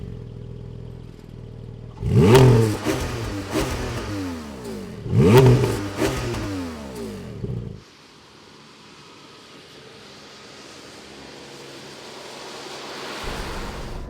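A Porsche 718 GT4 engine revs hard twice in quick succession, each loud rising blip falling away, followed by a quieter steady hum and a faint rise near the end; no talking.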